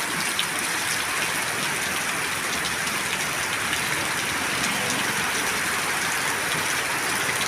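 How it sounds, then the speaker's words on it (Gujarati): Heavy rain pours down at Bagdana in Gujarat in a dense, unbroken hiss, loud and steady throughout with no talking. "આજે સારામાં સારો વરસાદ પડ્યો છે બગદાણામાં ને હજી શરૂ છે"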